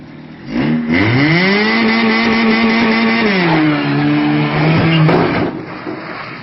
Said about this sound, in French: Il réchauffe le moteur un peu.